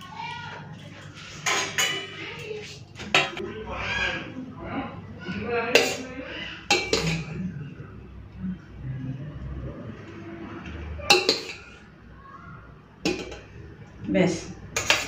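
Plates, pots and cutlery clink in short bright bursts as fried rice and spicy chicken kosha are served onto plates in a home kitchen, with a voice talking over the clatter throughout.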